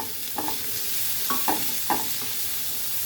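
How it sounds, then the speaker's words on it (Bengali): Small shrimp frying in a pan, a continuous close sizzle with several short scraping stirs of a spatula spaced irregularly over it. "এবার একটু সময় ভেজে নিব।"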